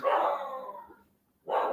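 Dogs howl and bark nearby in drawn-out, wavering cries, pausing briefly before another loud howl starts.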